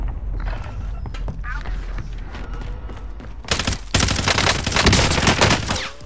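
Bursts of automatic gunfire ring out in a battle royale video game, with quieter mechanical clicks and faint voices early on before a loud, dense stretch of rapid shots takes over the second half.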